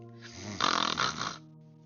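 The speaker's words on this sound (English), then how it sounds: "Mom let out a huge snore that made me jump out of my chair." A woman's single loud, rasping snore swells up and fades over about a second, standing alone against a low steady background hum.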